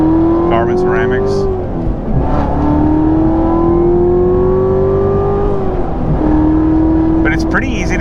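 A 2018 Chevrolet Corvette C7 Z06 Carbon 65 engine pulls hard from the cabin, its pitch climbing in two long, rising sweeps separated by a brief shift dip, with someone talking over the loud, close drone.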